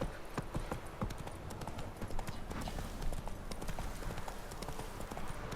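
Roach the horse trots in The Witcher 3, a dense, rapid run of hoof clip-clops over a rumbling ground bed, steady and close throughout with a faint voice now and then.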